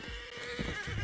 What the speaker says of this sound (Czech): Hele, můj kůň je tady